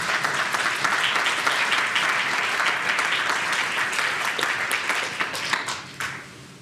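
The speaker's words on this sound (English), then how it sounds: "Please give a round of applause, please." A lecture audience at Harvard University claps for a visiting law professor, dense sustained applause that thins into scattered claps before fading near the end.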